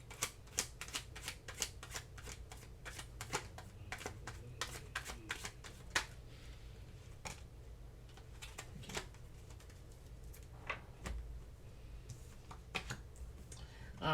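Oracle cards being shuffled by hand, a rapid run of crisp riffling clicks and slaps that comes in bursts and pauses, close and fairly quiet.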